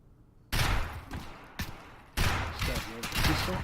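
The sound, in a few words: gunfire in the video game Escape from Tarkov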